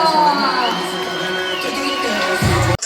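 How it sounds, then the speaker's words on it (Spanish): Loud applause and cheering from the crowd at a dance competition in Argentina as a Neuquén dance academy is called up, with shouts and voices blended into the clapping before an abrupt cut. "Llamamos ahora a la Academia IDC de Neuquén. ¡Fuerte el aplauso!"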